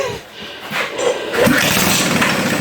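Small go-kart engine with no muffler starting up: a loud raw sputter that catches and settles into a continuous rough run, close by.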